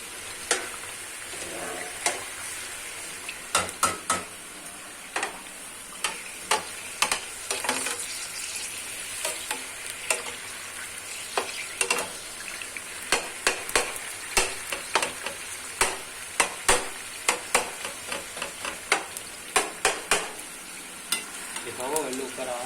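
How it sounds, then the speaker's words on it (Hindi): Ground chicken keema fries on full flame in a pan for a dhaba-style Pakistani dish, with steady sizzling and frequent scraping stirs running throughout, close and fairly loud. "थोड़ा सा भून लेंगे, और फिर वो जो यखनी नहीं रखी वो डाल देंगे।"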